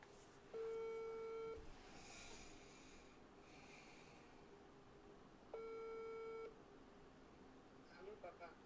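Telephone ringback tones sound during a phone call, two long steady beeps about five seconds apart, with breathing and faint voices between them.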